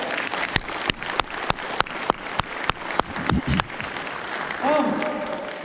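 Shareholders at a Celltrion annual general meeting clap in a sharp, fairly sparse round of applause, individual claps audible, with talking mixed in toward the end.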